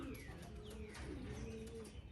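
Racing pigeons in a loft give faint, soft, low cooing calls amid a quiet background hum, with light chirps scattered through.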